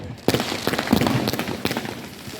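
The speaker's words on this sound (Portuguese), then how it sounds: "e muitos fogos são lançados aos céus nessa noite." Fourth of July fireworks bursting over the night sky, several sharp cracking bangs spread across the stretch with rumbling echoes between them, heard at a moderate distance.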